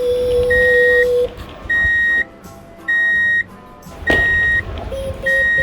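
Repeated electronic beeps from a Play-Doh Wheels toy truck in an even on-off rhythm, bright and close, with a couple of higher-pitched tones mixed in.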